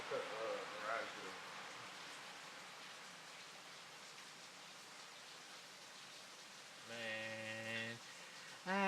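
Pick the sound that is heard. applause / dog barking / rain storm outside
rain storm outside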